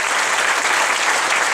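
A live audience applauds loudly, a dense and steady burst of clapping that fills the whole short moment with no break.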